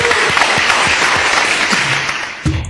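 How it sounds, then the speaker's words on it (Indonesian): An audience applauds a Catholic priest at a talk about pastoral work in East Kalimantan, with steady, fairly loud clapping for about three seconds and a few low voices mixed in. "Kita tepuk tangan untuk Pater Sipri"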